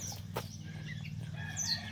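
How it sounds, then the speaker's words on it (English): A yellow-legged Hatch game fowl rooster in molt crows in a garden, somewhat distant and moderately faint over a steady low hum. "That's one of my hatch roosters."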